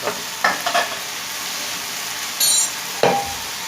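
Chicken and capsicum fry in a pan for chicken tikka pizza, a loud steady sizzle close up, broken by several spatula scrapes and stirring clatters at irregular moments, with no voices.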